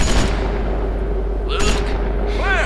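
A gunshot rings out in The Walking Dead Season 2 video game, a single loud boom at the start over a low rumbling backdrop, followed by faint sharp effects.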